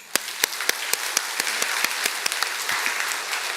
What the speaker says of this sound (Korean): 우리 박수 한번 쳐줍시다